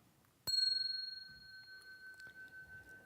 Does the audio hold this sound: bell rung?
yes